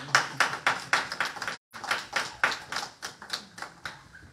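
A church congregation claps hands together at a worship service, giving a dense, steady run of loud sharp claps with a brief cut-off gap partway through and no voices over it.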